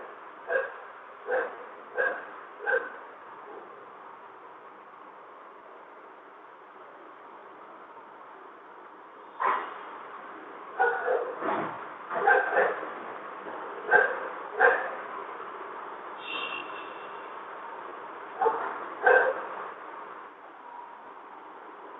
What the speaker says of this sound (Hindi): अरे यार ये कुत्ता ना,